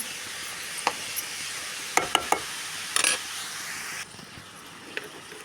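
Carrots being stirred into a frying egg dish in a pan, with a soft steady sizzle and a few quick spatula clicks and scrapes, then a quieter stretch near the end.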